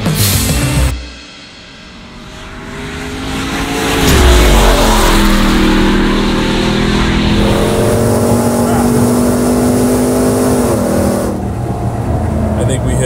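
Hennessey Mammoth 6x6 pickup truck with a 1000 hp engine accelerating hard on a track, a loud rising roar that holds steady after a brief lull, heard from inside the cab.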